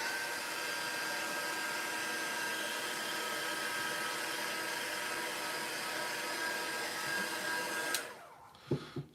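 A heat tool blows steadily to dry ink on vellum during a papercraft project, a loud, even whirring rush that runs for about eight seconds, then cuts off, leaving a few faint handling sounds.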